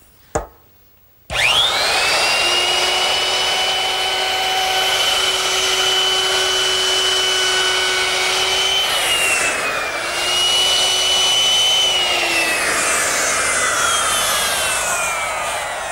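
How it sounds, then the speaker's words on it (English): Router fitted with a 1/4 inch round-over bit spins up after a short tap, then whines loudly and steadily as it eases the back edges of a wooden mirror frame, pitch dipping slightly under load midway. "With another router bit change to a 1/4 inch rounding over bit, I can now ease the back edges of the frame."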